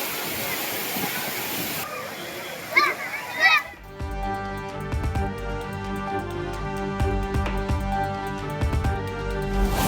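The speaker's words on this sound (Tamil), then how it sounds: "ஆறு பறித்து கொட்டும் அருவி நீரில் குடும்பத்தினருடன் உற்சாக குளியல்" Tourists bathe in the gushing water of Thirparappu waterfall, with steady rushing water and splashes throughout and children's voices calling out over the roar.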